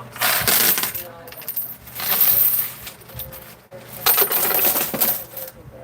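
Silver half dollar coins clatter and jingle in repeated cascades, three bursts of clinking pile-ups as they drop and slide inside a coin pusher machine.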